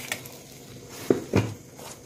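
Red chili and turmeric powder being stirred into hot melted butter on a tava for egg masala, heard as two quick metallic scrapes of a spoon against the pan over a faint sizzle, close and brief.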